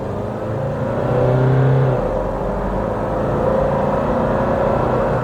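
A Nissan Navara 4x4 bakkie accelerating hard, a steady close engine drone and rumble inside the cab that swells and climbs in pitch, holding a continuous rising whir without speech.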